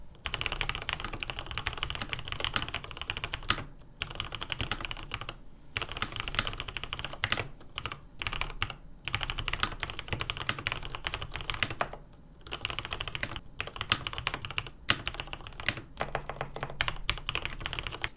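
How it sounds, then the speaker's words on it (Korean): Close, crisp typing on a custom Cherry G80-3000 HAV mechanical keyboard, rapid clacking keystrokes in bursts separated by brief pauses, with no voices. "자, 이제 한번 모두들 궁금해하시는 타건음부터 한번 들어보죠."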